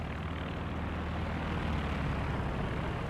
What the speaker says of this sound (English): here comes the Ju-7s